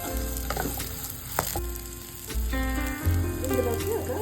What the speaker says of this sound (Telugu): శనగపప్పుని కూడా కొంచెం ఆయిల్లో ఫ్రై చేసుకోవాలండి.